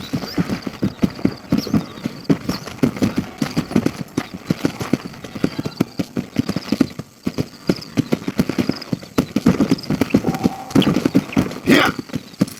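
A horse's hooves clip-clop in a steady, quick rhythm across open ground in the Red Dead Redemption video game, close and continuous. A brief whinny rises near the end, with faint talk underneath.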